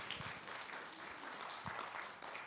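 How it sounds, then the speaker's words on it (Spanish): A church congregation applauds during a Spanish-language sermon, a steady patter of many hands clapping at moderate volume throughout the short stretch. "Give a big applause to the Lord."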